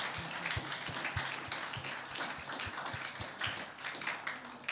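A church congregation claps together during a Sunday evening worship service, a dense, steady wash of hand claps with some sharper taps standing out, sustained for several seconds.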